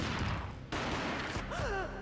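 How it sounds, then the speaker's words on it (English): A gunshot booms in the Max Payne video game, a single sharp blast cutting through a dense, noisy game soundscape, followed by whooshing slow-motion effects. "A gunshot boomed and she fell down in slow motion."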